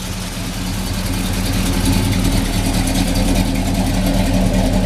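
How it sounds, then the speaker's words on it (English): A 1969 Chevrolet Chevelle convertible with a 355-horsepower engine idles steadily, its deep exhaust rumble loud and close and unbroken throughout, with no voices over it. "Got a nice little rumble out the back."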